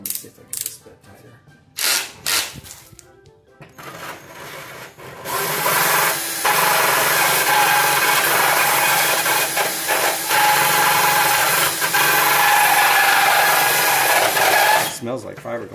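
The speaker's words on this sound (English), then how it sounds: "My other drill" After a few knocks and clicks, a power drill whirs into a long, loud grinding run as it bores through fiberglass on a 2016 Land Rover Discovery during a trailer hitch install, then stops abruptly.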